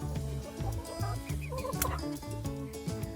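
Poultry cluck and call in a busy, overlapping jumble, close by, with a faint steady hum underneath.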